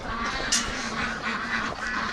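Ducks, including Rouen ducks, quacking in a snowy, icy winter pen, a steady chorus of close nasal calls with one louder burst near the start.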